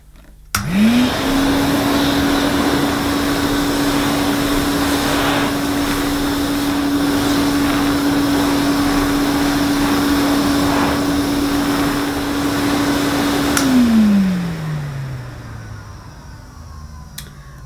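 A Hoover Constellation 862 vacuum cleaner runs steadily at close range with a constant whine, then winds down as it switches off near the end.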